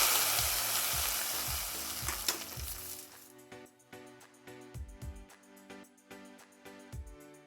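Mustard seed tempering poured into a pot of ash gourd buttermilk curry gives a loud, dense sizzle that fades after a few seconds, followed by quieter scattered clinks and stirring sounds close by.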